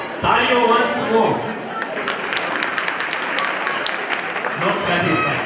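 An audience applauds at a community Diwali show in Nairobi, steady clapping filling the room for several seconds with voices mixed in.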